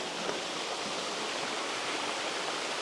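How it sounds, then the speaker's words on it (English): A waterfall pours steadily onto rocks at a landscape photography spot, a dense, continuous broadband rush that stays loud and even throughout with no voices. "We've got the waterfall on the right hand side going to these rocks over here."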